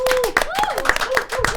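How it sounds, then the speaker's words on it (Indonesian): A small podcast audience claps on cue, quick uneven hand claps close by, with cheerful voices calling and whooping over them. "Tepuk tangan dulu."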